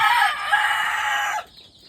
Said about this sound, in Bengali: দেখেন মুরগ মুরগি কত সুন্দর।